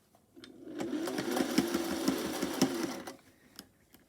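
Sewing machine running a seam with a zigzag foot fitted, a steady close mechanical whir with rapid needle clatter lasting about three seconds before it stops, no talking.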